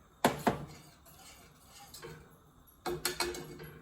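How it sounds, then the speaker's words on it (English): A spoon stirs chicken and bone broth in a pot as it comes to a boil, giving a few sharp metallic clinks and scrapes against the pot in two short clusters over a quiet kitchen background. "now I'm stirring it pretty regularly as it's getting to a boil"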